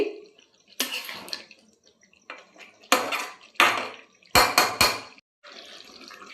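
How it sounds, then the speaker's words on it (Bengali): A spoon scrapes and clanks in a cooking pan while fried potatoes and chilli powder are mixed together, in a handful of separate sharp metallic bursts with quiet gaps between them. "এবারে সব একসাথে মেশাচ্ছি।"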